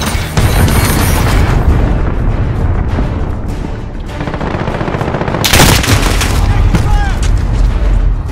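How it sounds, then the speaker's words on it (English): Cruise missile strike in Call of Duty: Modern Warfare multiplayer: a broad, loud blast and rumbling impact swell around the middle, over dense continuous gunfire and battle noise throughout. "Allied cruise missile away."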